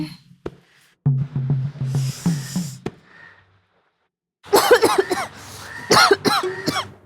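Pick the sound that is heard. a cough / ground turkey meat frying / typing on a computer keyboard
a cough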